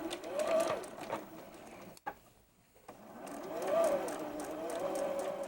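A sewing machine stitches quilt fabric pieces for a mini double wedding ring block, its needle whirring steadily in close, continuous runs with a brief stop in the middle before it starts up again.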